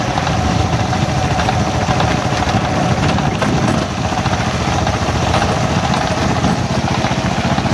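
A motorcycle engine idles close by, a steady low rumbling putter that holds at an even level throughout with no voices over it.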